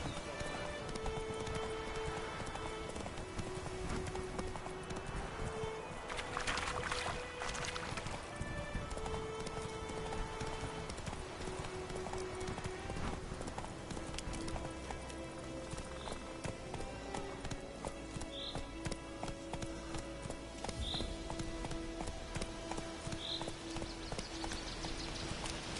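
Roach, a horse in the Witcher 3 video game, gallops with steady clip-clop hoofbeats running throughout, set against continuous game music and ambience; a brief whinny may surface, with no speech over the hooves.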